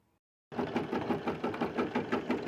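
An embroidery sewing machine stitches fabric over a layer of padding or foam held in a hoop, a fast, steady, rhythmic mechanical chatter that starts abruptly after a brief silence and runs close and alone.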